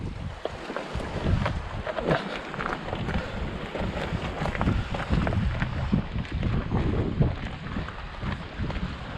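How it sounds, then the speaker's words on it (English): Gusty wind buffeting the microphone on a rocky West Wales coast while sea fishing, a constant rough roar with irregular bursts throughout. "Ah, the wind's picking up."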